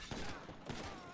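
Gunfire in the video game GTA V, a few rapid bursts of shots at steady intervals, fairly faint and dense.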